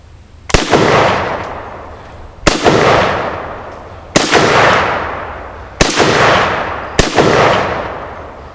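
Five loud close rifle shots from a 1953 Tula-built Russian SKS fired at a dumpster target, each sharp crack followed by a long rolling echo, spaced unevenly about one to two seconds apart.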